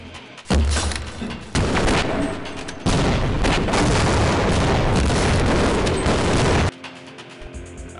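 Enemy grenades explode amid gunfire in the shooter game Half-Life, loud blasts and continuous rattling fire forming long dense bursts with a brief dip between them, then dropping away to quieter ambience.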